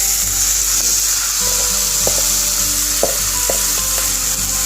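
Marinated chicken sizzling as it drops into hot masala in a pan for a Bengali chicken curry, loud continuous frying hiss with a few clanks of a utensil stirring, no voices.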